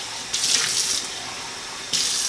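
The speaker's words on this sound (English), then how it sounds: "turn on the tap" Cold city water runs from a kitchen tap in a steady hiss that surges louder in two bursts as the flow changes, with no talking.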